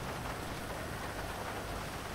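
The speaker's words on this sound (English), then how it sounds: "I'm gonna be riding in the rain" Rain falls steadily in Grand Theft Auto 5, a dense even hiss of drops on surfaces, faint and unbroken throughout.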